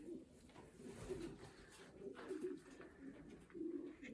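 Young racing pigeons coo softly and repeatedly in a loft, faint and low, in a steady murmuring rhythm with no talking over it.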